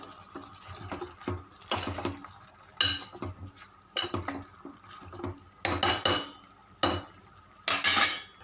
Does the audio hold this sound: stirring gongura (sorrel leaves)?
yes